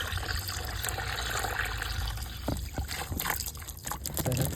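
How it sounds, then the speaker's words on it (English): Cold water poured into a container of steaming hot water, a steady close trickling and splashing flow that continues throughout, with a small bump of handling near the middle. "Maybe I'll get some cold water."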